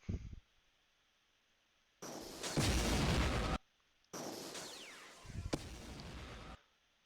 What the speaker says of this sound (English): Just explosion sound is right here